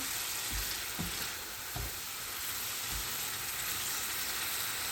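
Spice paste for a snakehead fish curry sizzles and fries in a pan with a loud, steady crackling hiss, broken by a few soft stirring knocks.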